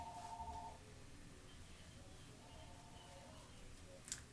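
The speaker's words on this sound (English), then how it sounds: "Phone decides to ring." A phone ringing in a quiet room, a faint electronic ring tone in short bursts at the start and again midway, with a small sharp blip near the end.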